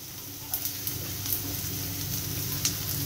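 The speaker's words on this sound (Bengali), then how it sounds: "আমি এবারে পেঁয়াজগুলোকে হালকা ভেজে নেব." Onions fry lightly in oil in a home Bengali kitchen, giving a steady soft sizzle with occasional small pops and crackles throughout.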